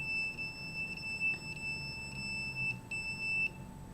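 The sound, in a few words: radiation detector alarm beeping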